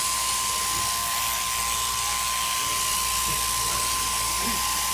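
Electric shearing handpiece cutting through merino sheep fleece, a steady, loud high-pitched mechanical buzz with a constant whine running unbroken throughout, close up.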